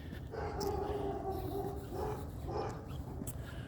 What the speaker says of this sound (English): Wow, it's a really big day for dogs out today. They're barking all over the place.